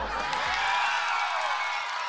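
A studio crowd at a game show claps and cheers in a dense, loud, continuous roar that fills the clip without a break.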